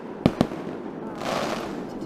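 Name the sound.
fireworks going off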